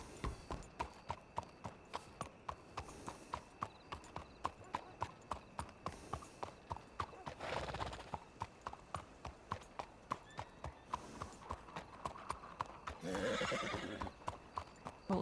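Steady hoofbeats of a horse-drawn wagon clop past at an even trot in a Red Dead roleplay video game, with occasional whinnies and neighs rising above the rhythm, moderately close.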